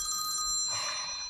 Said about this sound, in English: I know my phone's ringing.